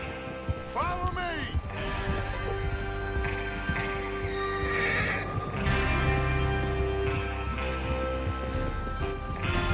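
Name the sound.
horses neighing and trotting in Red Dead Redemption 2 video game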